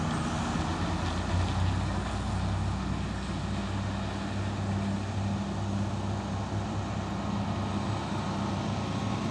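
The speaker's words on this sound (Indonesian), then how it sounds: "Masuk lagi truk trailer Hino Lohan ini ya" A Hino trailer truck hauling a tarp-covered load drives along a road, its engine a steady, loud low rumble with continuous road noise and no pauses.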